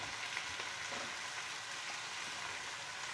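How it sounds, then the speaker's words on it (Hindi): Onions frying in a pan in a home kitchen, a steady, dense sizzle that holds evenly throughout with no talking. "ये प्याज न ब्राउन करांगे अपन"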